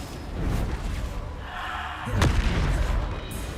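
A Bombarda explosion spell cast in the Hogwarts Legacy game, heard as one loud booming burst partway through, set against steady game noise.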